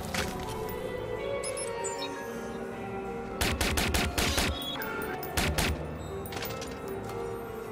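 Gunfire rattles through a shootout in the video game Watch Dogs, with bursts of rapid shots in two clusters over a constant background of game ambience and music.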